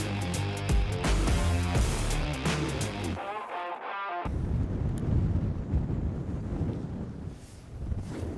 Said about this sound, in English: Bit of a blustery evening